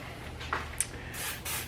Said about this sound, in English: we're spraying the room with some smell goods